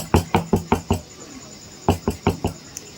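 A filled mold of spinach and semolina batter tapped on a surface to settle it: a quick run of five close knocks, a pause, then another run of knocks.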